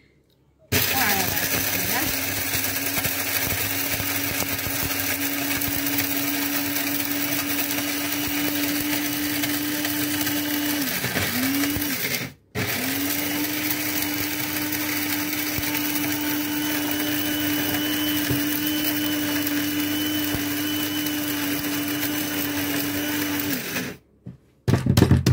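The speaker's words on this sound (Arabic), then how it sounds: "هنايا باش نردوه غبره خصنا نوليو نردوه في مولينيكس ديال العطور وداك القهوه" A Moulinex spice and coffee grinder grinds dried peppers to powder for harissa, its steady, loud motor whine running in two long bursts separated by a brief stop.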